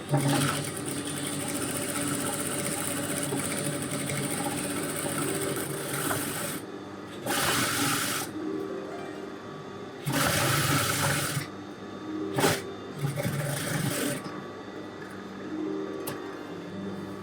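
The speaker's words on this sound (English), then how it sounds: "This is a classic edge stitching moment where we just want to stitch along the edge" A sewing machine edge stitches along the edge of a wrap dress, its motor whirring in steady runs of a second or two, broken by short pauses and quieter stretches, close and fairly soft.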